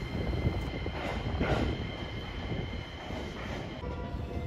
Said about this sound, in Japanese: 総社駅11時37分着伊原線総社駅 HRT355 系機動車伊原鉄道の列車がやってきました